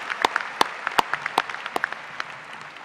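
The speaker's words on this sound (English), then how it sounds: "Let's give them all a round of applause" Scattered, fairly faint applause from a spring commencement audience at a college of agriculture ceremony, a handful of sharp individual claps at uneven intervals that taper off.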